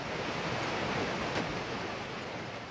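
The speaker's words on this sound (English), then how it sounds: "I took a regular recording of the sound of rain, pitched it down, and put it in our mix." A regular rain recording, pitched down for a cinematic sound design mix, forms a dense, low, even rushing wash of noise, steady and soft throughout with no distinct drops.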